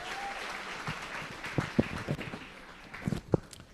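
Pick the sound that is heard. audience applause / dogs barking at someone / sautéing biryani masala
audience applause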